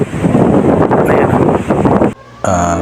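Strong wind buffets the microphone outdoors in open grassy hunting ground, a loud rumbling roar that drops out briefly near the end, then returns as a harsher tonal gust.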